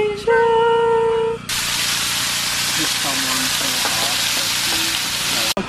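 Rice frying in oil and salt in a pot on an outdoor camping trip, a loud steady sizzle starting abruptly partway through and filling the rest, with faint voices underneath.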